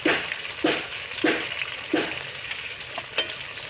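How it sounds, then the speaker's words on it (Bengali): Spice paste of ginger, green chili and turmeric frying in a pan for a jackfruit-seed paneer dish, a steady sizzle broken by four or five rhythmic stirring scrapes, close and moderately loud with no voices. "এবার আমি মশলাটা ভালো করে কষিয়ে নেব"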